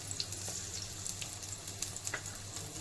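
Tempering seeds (cumin, chana dal, urad dal, mustard) sizzle in hot oil for lemon pulihora, a steady faint crackle with small pops throughout and no voices.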